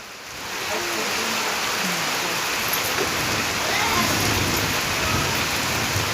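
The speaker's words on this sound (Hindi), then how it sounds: "एती आके कतका पानी गिरत है।" Heavy rain pours steadily on a village, a dense, even hiss that holds for the whole stretch with no break and no voices over it.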